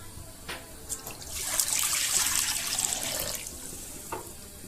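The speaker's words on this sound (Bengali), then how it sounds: "খুমিরের জন্য জল দিয়ে দিলাম" Water is poured into a pot to make dough for sesame and coconut puli pitha, a steady splashing stream that swells and fades over a few seconds, with faint knocks at the start and end.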